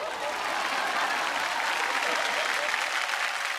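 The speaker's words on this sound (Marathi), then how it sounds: "जोरदार टाळ्या" A studio audience on a Marathi television show claps loudly and steadily for several seconds, a dense even wash of applause with a faint crowd murmur beneath it.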